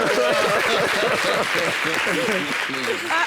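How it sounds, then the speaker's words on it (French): An audience at a French-language TV show claps steadily throughout, a dense applause wash under someone talking over it. "Applaudissez-moi lui encore, s'il vous plaît."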